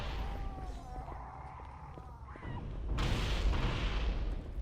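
Grenades blowing up in the Halo video game, a rumbling burst that swells into a dense, loud roar of explosive noise over a busy game mix.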